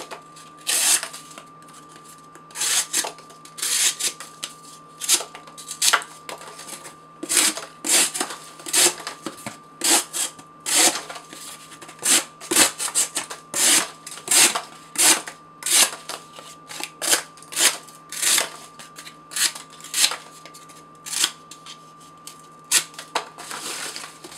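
A ScrapYard Scrapivore knife slices through cardboard in an edge retention test, making a long run of sharp, rasping cuts with brief pauses between strokes, loud and close with no speech.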